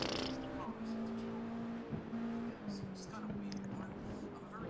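Race cars in the iRacing sim during a 24 Hours of Lemons endurance event, a Corvette among them in a tank slapper: steady engine drone with shifting tones and gear changes, heard under ongoing commentary.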